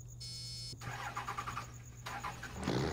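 A 1995 Dodge Ram 2500 single cab Cummins diesel truck in Farming Simulator cranks with a whirring starter, catches, and settles into a low, steady rumbling idle, heard fairly quietly.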